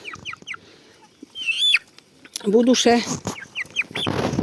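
Chicks cheep in quick, high repeated chirps, while a person speaks briefly in between.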